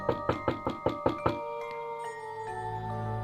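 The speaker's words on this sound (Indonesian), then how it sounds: "siapa yang mengetuk pintu keras begini jam 12:30 malam?" Loud knocking on a door late at night: six hard, evenly spaced raps in quick succession, close and resonant, then a fading ringing tail and quiet.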